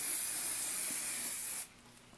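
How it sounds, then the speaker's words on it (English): A steady, close spray of Hot Off the Press hair spray hisses for about a second and a half, then stops abruptly, leaving near silence. "I am going to use my Hot Off the Press, and I'm going to spray all of my hair."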